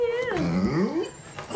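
A dog whimpers indoors with a high, wavering whine that slides up and down, close and fairly loud, tailing off into a softer yip near the end.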